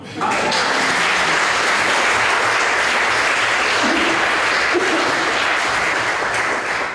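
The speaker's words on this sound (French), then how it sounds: "Donc, ça donne l'applaudissement pour Marc" An audience at a corporate talk on magic and innovation applauds for a volunteer after a card trick. A loud, continuous burst of many hands clapping holds steady for several seconds.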